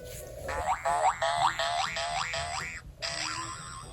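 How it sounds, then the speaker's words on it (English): A Ty Beanie Boo plush toy gives out a run of springy boing sounds, several quick wobbling bounces in a row and then one more after a brief gap, close and fairly clear. "He also makes a bouncing sound"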